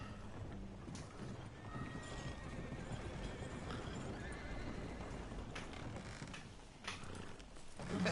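A horse in a video game whinnies and its hooves clip-clop steadily, with faint creaking mechanisms and ambient game sounds throughout.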